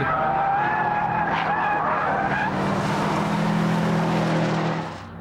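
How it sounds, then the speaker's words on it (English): Rally-style car sliding at 100 mph with tyres skidding and an engine droning underneath, a loud sustained rasping slide that holds steady, then drops away at the end. "100 miles an hour, and a little bit of a slide."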